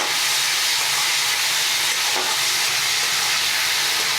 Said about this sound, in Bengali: চিংড়ি মাছগুলো আমি নুন হলুদ মাখিয়ে এর মধ্যে দিয়ে দিচ্ছি। চিংড়ি মাছগুলো হালকা একটু ভেজে নেব।